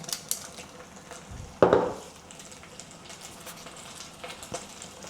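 Beef with ginger and scallion is stir-fried over high heat in a pan and mixed with sauce: a steady soft sizzle, one sharp close clank of utensil against pan, then lighter scraping taps.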